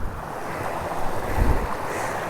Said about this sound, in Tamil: இதில் தான் தண்ணி போகுது